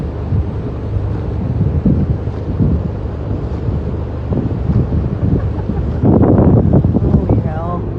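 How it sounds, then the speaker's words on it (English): Powerful straight-line storm winds batter the microphone in loud, gusty buffeting with a heavier burst near the end and a voice faintly present. "the storm released its destructive energy in the form of powerful straight-line winds"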